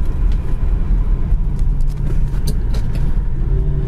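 A 1970 Chevy Nova with a 350 two-barrel V8 and a four-speed drives down the road, its engine a loud, steady low rumble with road noise and no talking.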